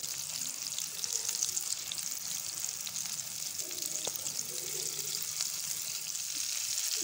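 Shami minced meat kebabs fry in a pan of oil, giving a steady, close sizzle with soft crackle that runs evenly throughout, and a single faint clink partway through; no one speaks.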